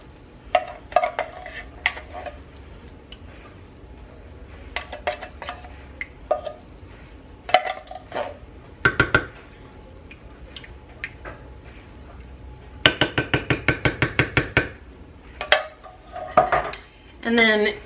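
Cherry pie filling goes into a small Pyrex glass dish, with clinks and taps of a spoon on glass, scattered knocks and a quick run of rapid scraping clatters near the end, close and fairly clear with no talking.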